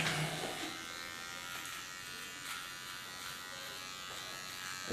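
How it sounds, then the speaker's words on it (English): A small electric hair clipper buzzes steadily and close, trimming long hair during a short haircut, with a constant high whir that barely changes and no talking. "Now clean it with my small clipper."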